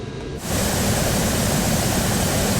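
Military transport plane engines in Microsoft Flight Simulator throttling up, a sudden loud, dense roar that rises and holds steadily without talk.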